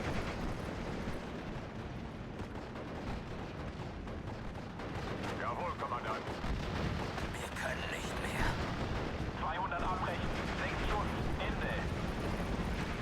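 Machine gun fire from several MG teams in Steel Division: Normandy 44, a wartime battle at Cheux, rattling steadily under a dense wash of distant combat noise and booming artillery while someone talks over it.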